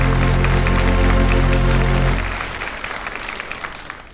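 A theatre audience applauds the arrival of the Capri theatre organ, loud dense clapping over a sustained organ chord that cuts off midway, the applause continuing alone and thinning out.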